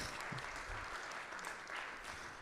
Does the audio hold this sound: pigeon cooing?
no